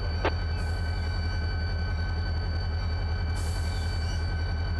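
Metrolink train in the Run 8 train simulator climbing a grade, a steady low engine drone and rumble running throughout at even loudness, with a faint brief high tone near the start.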